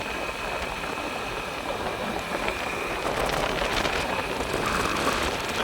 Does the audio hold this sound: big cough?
no